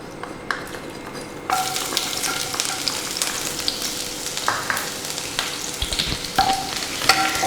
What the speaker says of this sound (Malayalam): ഇനി നമുക്ക് ഇതിനകത്തോട്ട് എടുത്ത് വെച്ചിരിക്കുന്ന ഇഞ്ചിയും വെളുത്തുള്ളിയും ഇട്ട് കൊടുക്കാം.